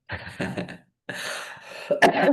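A few short, harsh coughs from someone with a cold and flu, in quick bursts, close and fairly loud, with a brief pause between groups and no speech.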